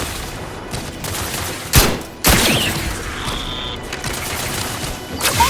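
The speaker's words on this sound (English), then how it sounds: "Stun weapon ready, Commander." A stun weapon fires in the video game The Outer Worlds 2, with two sharp loud bursts about half a second apart over a low background hum, then a faint electronic tone and another burst near the end.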